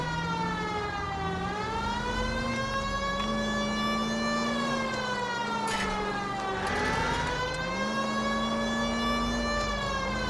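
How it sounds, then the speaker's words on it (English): A police car siren in the video game L.A. Noire wails loud and continuous, its pitch rising and falling in slow sweeping cycles over a low engine rumble for about ten seconds. "Turn the siren off, it's a little annoying."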